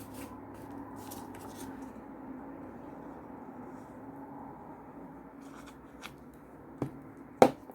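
Paper pouches holding fussy-cut papercraft pieces are handled, giving soft rustling and rubbing close by, quiet for most of the stretch, then a few sharper crinkles and taps near the end.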